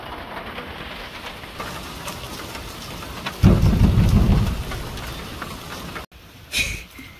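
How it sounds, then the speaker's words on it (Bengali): Steady rain falls in a rural village market setting, a continuous hiss that swells into a loud, deep rumble of thunder midway, then drops back to rainfall with a brief further burst near the end. "বৃষ্টিও নামছে সারাদিনই বৃষ্টি থাকে"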